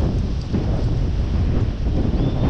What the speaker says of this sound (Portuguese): Aqui só vento gelado.